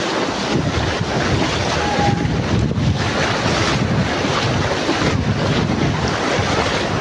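Ocean waves wash in at a sea beach: a loud, unbroken roar of surf mixed with heavy wind buffeting on the microphone, steady for the whole stretch with no voices.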